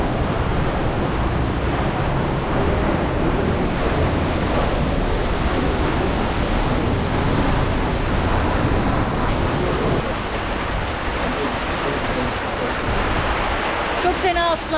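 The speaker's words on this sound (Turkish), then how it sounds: "şu an yağmur yağıyor" Rain pours steadily near Sipi Falls in Uganda, a loud, dense broadband wash close by that continues without a break, with faint talk in the background.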